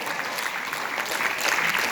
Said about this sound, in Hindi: जोरदार तालियां बजती रहनी चाहिए दोस्तों